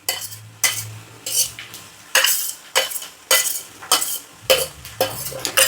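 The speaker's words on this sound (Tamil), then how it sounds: "தேங்காய் கொஞ்சமாக தான் ஊற்றுறேன்." Ground coconut poured into a simmering country chicken curry and stirred, a ladle scraping and clinking rhythmically against the pot in about eight even strokes, close and clear with a soft bubbling underneath.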